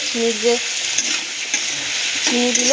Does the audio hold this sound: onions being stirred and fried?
yes